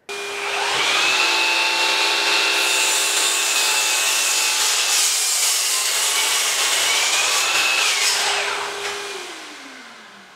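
A DeWalt sliding compound miter saw spins up and slices through a wood workpiece, a loud steady whining cut lasting about eight seconds before the motor winds down, with no talking.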